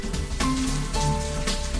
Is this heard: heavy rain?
yes